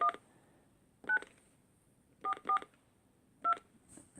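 An AT&T 5500 cordless phone from 1993 dialing on speakerphone: five short touch-tone beeps, spaced irregularly, clear and close against a quiet line.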